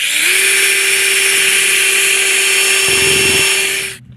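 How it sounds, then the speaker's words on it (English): Power drill boring through a metal awning mount plate on an ARB 2500x2500 awning install, with a loud steady high-pitched whine for about four seconds that stops abruptly, heard close up and without talk. "I'm just going to go ahead and drill through the mount plate."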